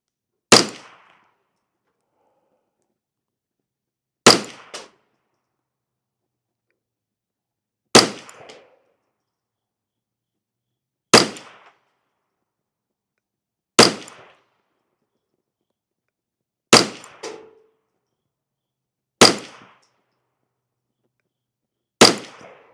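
Eight single rifle reports from CCI SV .22 rimfire ammunition crack out one at a time, evenly spaced about three seconds apart. Each is loud and close with a short decay, and no one speaks.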